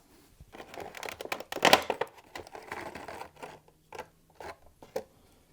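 Plastic and cardboard toy figure packaging crinkles and tears as it is opened by hand, a burst of crackling rustles followed by scattered softer handling sounds and brief pauses.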